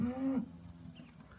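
A short, low moo from a cow, fairly near, trailing off quickly into quiet outdoor background.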